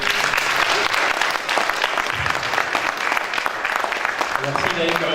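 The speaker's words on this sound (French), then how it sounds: "L'applaudir." Audience applause at a Congolese community gathering in Belgium: loud, dense clapping mixed with cheering and overlapping voices, steady for the full five seconds.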